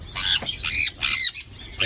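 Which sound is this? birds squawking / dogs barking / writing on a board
birds squawking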